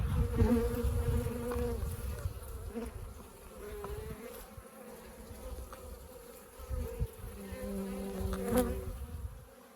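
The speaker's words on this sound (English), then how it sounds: "there's still a few bees left in the box" Honey bees buzz close up in a hive box in a steady, dense drone with shifting pitches as individual bees move about, no talking.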